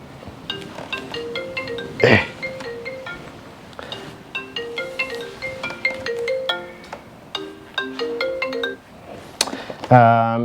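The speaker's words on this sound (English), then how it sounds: "phone's ringing" A melodic phone ringtone from a Garmin Zumo XT motorcycle GPS plays in short repeating tonal phrases with a few brief clicks and bursts between them, nearby and fairly loud.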